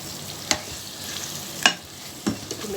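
Spices stirred and mixed in a frying pan, three distinct scraping strokes spaced over a soft, steady sizzle.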